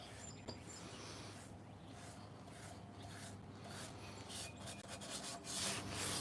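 A brush or applicator spreads a thick finish coat into the seams between wooden bar-top boards, a steady, soft rubbing and scraping up close that swells slightly toward the end.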